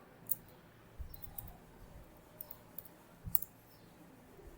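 Computer mouse clicking, several faint, sharp isolated clicks spaced irregularly in a quiet room.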